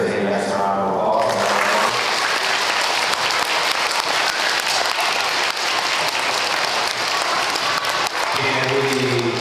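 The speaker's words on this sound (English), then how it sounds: "can we give our third graders a next round of applause?" An elementary school Veterans Day assembly claps for third graders, loud sustained applause filling a large room, with children's voices briefly at the start and end.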